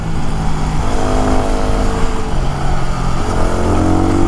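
A Yamaha WR250R motorcycle engine running on a mountain road, a loud continuous drone with slight shifts in pitch, close and steady with wind noise mixed in.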